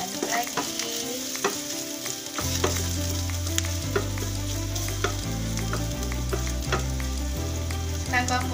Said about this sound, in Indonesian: Bawang merahnya masukin. Aduk sebentar ya bun.